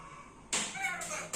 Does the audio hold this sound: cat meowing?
yes